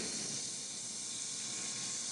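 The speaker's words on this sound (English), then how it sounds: "Let me just sizzle it over the stove with my hands." A burger sizzling on a stove in a video game kitchen, a steady close hiss of frying that holds evenly from start to finish with no pauses.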